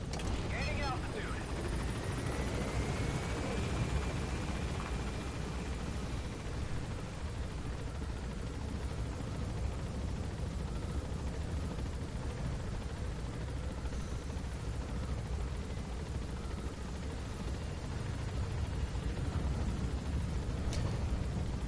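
Helicopter in Metal Gear Solid gaining altitude, a dense continuous rotor and engine roar held steady throughout at moderate level, with no break in the drone.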